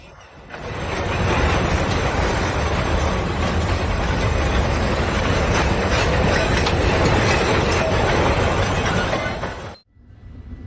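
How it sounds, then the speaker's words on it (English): A freight train passes close by in Chicago, a loud steady rumble with clattering wheels on the rails. It runs for nearly ten seconds, then stops abruptly. "a resident of Chicago was casually filming a passing freight train"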